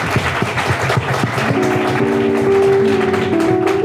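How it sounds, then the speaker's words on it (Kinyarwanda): An audience claps at a gathering with scattered, uneven hand claps. A sustained keyboard tone joins partway through and plays under the applause. "Mumfasha tumukomera amashyi."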